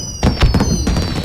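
Chinese New Year fireworks go off in a quick cluster of sharp cracks and pops, fairly close and loud, with a steady high whine ringing over the bursts.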